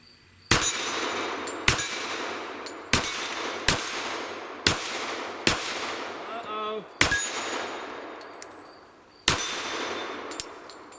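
A SIG M1911 Spartan pistol in .45 ACP fires eight loud, sharp shots at irregular intervals, each with a ringing decay, with a brief metallic clatter between two of them.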